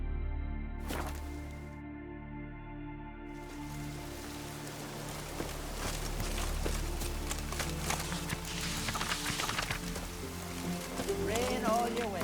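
Steady rain pours throughout an outdoor scene in the video game The Witcher 3: Wild Hunt, a constant wash of falling drops with occasional louder splashes and a horse moving, while game characters speak over it.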